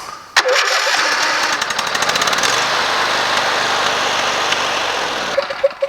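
A Briggs & Stratton small engine on full choke catches after a short sharp crank and runs steadily and loudly, with a rough, buzzing mower-like drone that cuts off near the end.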